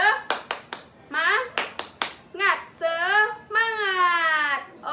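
Children in a classroom follow a teacher in the Indonesian 'tepuk semangat' chant, sharp rhythmic group claps alternating with short shouted chant words and a drawn-out cheer, close and lively.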